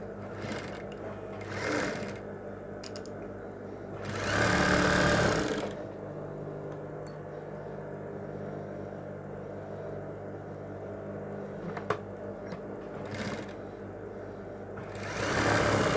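Sewing machine stitching the front and back of an evening blouse together, its motor whirring in several short runs, with steady quieter hum between the louder stitching bursts, close up and alone.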